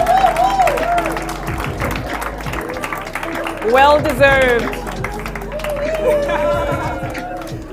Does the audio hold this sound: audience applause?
yes